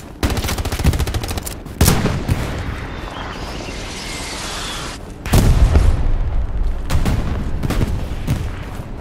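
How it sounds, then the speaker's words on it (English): Loud rapid gunfire crackles in bursts in the Hell Let Loose video game, with a heavy bazooka blast and boom around the middle before more shooting follows close by. "Shoot it with the bazooka."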